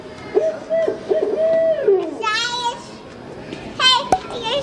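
Bird calls from a museum exhibit at the Perot Museum of Nature and Science: warbling, hooting tones amid children's chatter, with a brief chirpy trill near the end, close and moderately loud.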